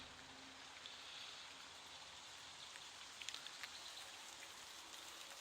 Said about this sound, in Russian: Сейчас дождь у нас идет, такой капает мелкий.